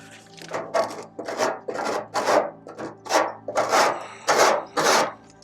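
A 3D-printed scraper grinds against baked-on grease in an air fryer in about nine rhythmic back-and-forth strokes, each one a close, harsh rasp.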